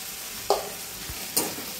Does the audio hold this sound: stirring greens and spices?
yes